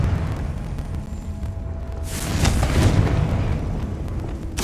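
A Confringo fire-blast spell bursts in the Hogwarts Legacy video game, a low rumbling bed that swells into a loud whooshing blast midway and stays roaring before a sharp pop at the end.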